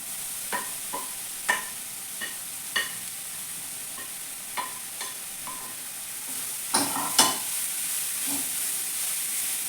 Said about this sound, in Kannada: ಇವಾಗ ಕ್ಯಾಬೇಜ್ ಕಟ್ ಮಾಡ್ಕೊಂಡಿದ್ನಲ್ಲ ಅದನ್ನು ಹಾಕ್ತಾ ಇದ್ದೀನಿ